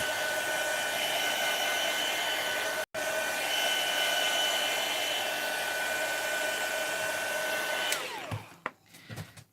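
A hair dryer blows steadily for about eight seconds to dry ink on a handmade craft card. It runs loud and close with a constant whine, cuts out for a moment partway through, then winds down and stops, followed by a few light handling knocks.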